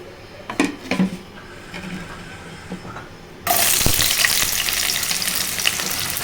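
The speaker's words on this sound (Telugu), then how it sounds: "ఒక 4 పావుల ఆయిల్ పోసానండి. ఇప్పుడు ఉల్లిపాయ ముక్కలు వేసుకోవాలి." Chopped onion pieces drop into hot oil for a masala curry. A few soft clinks come first, then a sudden loud, close, steady sizzle takes over.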